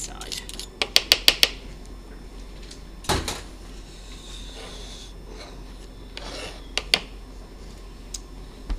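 Crushed garlic being scraped out of a metal garlic crusher, heard as a quick run of sharp metallic scrapes and clicks followed by scattered rasps and knocks, close up, with quiet talking.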